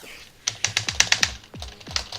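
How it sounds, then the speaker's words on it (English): A burst of rapid clacking keystrokes, with a computer keyboard's space bar hammered repeatedly in a quick run while playing The Impossible Game, close and fairly loud with no voices. "That's the sound of me breaking a space bar."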